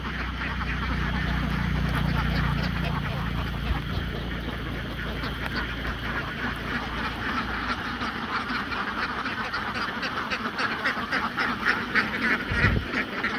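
A flock of ducks quacking on a rice-field duck farm in An Giang at egg-collecting time, a dense, busy chorus of overlapping quacks close by, with a person talking over it.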